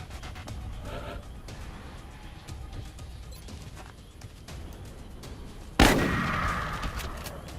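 A barrel shot and blown up in XCOM Enemy Within: after several seconds of quiet crackle and small thuds, one sudden loud explosion hits and rumbles away.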